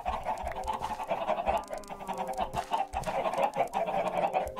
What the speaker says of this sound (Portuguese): Nossa senhora, as galinhas estão dominando tudo aqui embaixo.